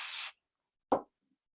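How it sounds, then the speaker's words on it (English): A brief hissing burst of basting spray onto quilt batting, followed after a pause by a single soft thud. "I'm just going to spray the batting."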